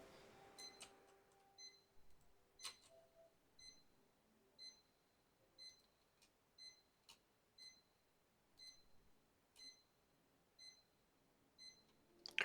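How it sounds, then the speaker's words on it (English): A computer warning in the RollerCoaster Tycoon World video game beeps repeatedly, with faint, short electronic pips spaced about a second apart against near silence. "Will you shut up, computer? It's been beeping non-stop."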